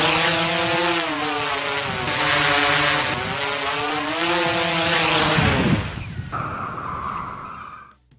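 Drone flying over a road accident scene, a loud close buzzing whine of propellers with wavering pitch that drops away abruptly near the end, no voices.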